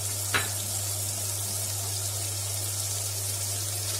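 Cabbage tipped into a pan of frying onions for a winter vegetable soup, giving a steady close sizzle with one brief clatter near the start and a constant low hum underneath.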